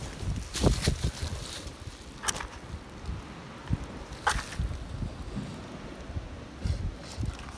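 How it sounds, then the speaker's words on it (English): Gusty wind buffets the microphone outdoors beside a small campfire being lit, rumbling in uneven bursts with a few sharp clicks and knocks, and no talking. "It's really windy"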